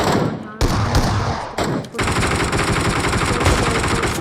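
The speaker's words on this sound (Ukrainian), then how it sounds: "Стріляю Стріляю по ньому." Rapid automatic gunfire rattles in loud bursts with short gaps, a game-style weapon firing close up, while a voice talks faintly underneath.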